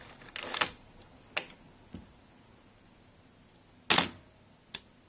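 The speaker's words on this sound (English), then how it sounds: "To fire the camera, we'll switch it to auto" A film SLR camera with a cloth focal-plane shutter fires on auto wind-on, producing a quick cluster of crisp mechanical clicks and whirs, then a few more isolated snaps, close and fairly quiet.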